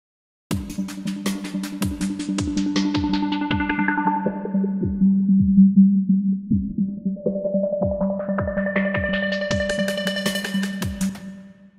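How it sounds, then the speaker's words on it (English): Repeated synthetic plucked tones pulse steadily in a rhythmic pattern, drenched in a long reverb wash in Ableton Live that swells, sweeps down, then back up. "now everything goes to the reverb"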